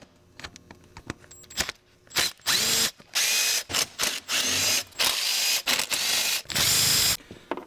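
Ratchet with a T27 Torx bit loosening the spark plug cover bolts on a Volvo 850 Turbo, heard as a series of rapid clicking ratchet bursts in quick succession, close up with no talking.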